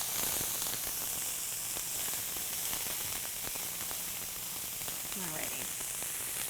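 Garlic sautéing in a pan on a lowered burner, a soft continuous sizzle and crackle heard at moderate distance, steady throughout with faint background hiss.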